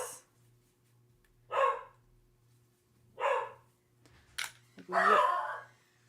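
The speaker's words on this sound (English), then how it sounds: "the dogs are announcing his arrival" Dogs bark indoors as someone arrives at the door, in a kitchen where a roast is being prepared: three loud, separate bursts of barking with quiet gaps between them and a low steady hum underneath.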